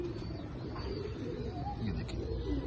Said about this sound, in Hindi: ये सीधी हड्डी का कबूतर है।